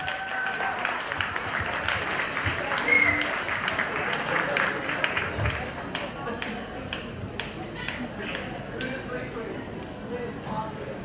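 An audience at a Malayalam community gathering applauds a speaker being welcomed, sustained clapping of moderate loudness with individual claps standing out, gradually thinning while some voices murmur underneath.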